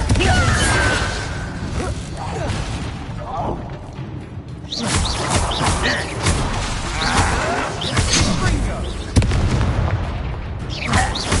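Confringo blasting-curse explosions in Hogwarts Legacy: repeated booming blasts and bursts amid continuous dense combat noise, loud and close, with a voice shouting spell names.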